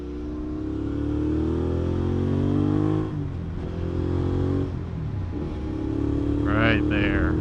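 A 2019 Suzuki V-Strom 650 motorcycle engine turns over at low rpm with a deep, grumbly rumble, rising and falling through a few throttle blips. A voice briefly sounds near the end.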